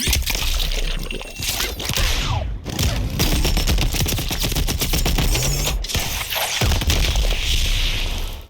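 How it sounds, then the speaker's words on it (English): Dense automatic gunfire from ED-209 in Mortal Kombat 11 rattles almost continuously with heavy impacts, loud and close, broken by brief gaps and ending in a big explosion. "Ed 209 comes in and lights them up to smithereens, capping it off with a massive body go boom explosion"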